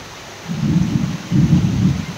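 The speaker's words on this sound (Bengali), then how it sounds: "দেখো বৃষ্টি হচ্ছে" Rain pours during a hot-season storm, with low rolling rumbles of thunder swelling twice, a steady wash of falling water underneath, and no talking.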